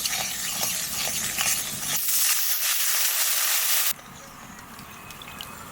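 Jaggery and water poured into hot mustard oil already holding panch phoron and dried red chillies, hissing loudly in the pan; the sizzle swells into a harsh burst, then drops abruptly to a steadier, quieter hiss.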